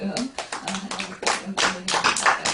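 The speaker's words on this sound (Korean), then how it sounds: "그래서 격려로 우리가 박수로 또 했습니다." A church congregation claps in encouragement after a testimony, with sharp bursts of hand claps in an uneven rhythm over a sung or spoken voice.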